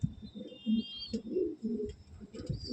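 Red kat Giribaj pigeons in a loft give a few soft, low coos with faint chirps, quiet and close over a hushed background.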